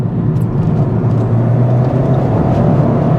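A 300hp Ford Fiesta ST pulls hard in third gear, its engine a steady, loud, dense drone from inside the car with continuous road roar and no speech.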